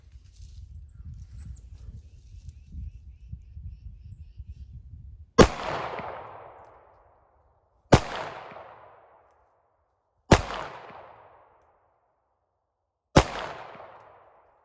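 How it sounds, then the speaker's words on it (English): Four loud, sharp pistol shots from an Arex Delta M Gen 2 fired at 7 yards outdoors, spaced a few seconds apart with ringing decays, after a stretch of low rumbling background. "There's 4 shots from 7 yards."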